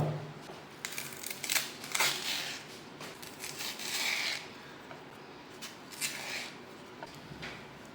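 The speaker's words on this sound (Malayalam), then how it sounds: "ഇനി ഇതിൻ്റെ തൊലിയൊക്കെ നമുക്ക് ചീതി കളയണം" Skin is scraped and peeled from raw green plantains in a home kitchen, producing short, close rasping strokes and light rubs in irregular bursts with quiet pauses between them.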